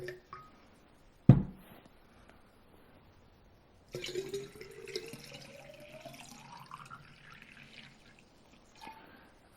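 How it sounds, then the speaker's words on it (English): Water is poured into a glass structuring carafe, a short knock first, then a steady filling stream whose pitch rises as the vessel fills, close and fairly quiet. "fill it up with water."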